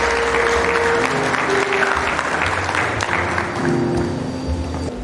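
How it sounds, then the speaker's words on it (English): Sustained audience applause fills a memorial lecture hall, steady and fairly loud from start to finish, with a faint murmur of voices underneath. "Please let's give him a round of applause."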